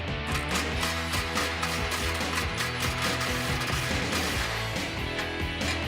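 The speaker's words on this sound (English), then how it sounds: "next we have to loosen the clamps securing our muffler to our flow tube here. That's also going to be a 15mm socket." A ratchet turning a 15mm socket loosens the muffler clamps on a Ram 1500 exhaust, giving a rapid, steady stream of close metallic clicks over a dense, continuous background.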